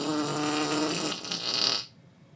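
A wet human fart sound effect: a sustained, bubbly, sputtering low rumble with a wet, squelchy texture, heard alone for about two seconds before cutting off abruptly.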